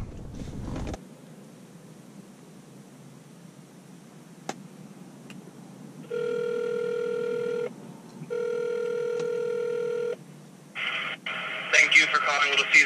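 A phone call over a car's audio, probably from an E46 M3, as the line rings in two long, even tones after a quiet pause and then breaks into a brief burst of noisy sound.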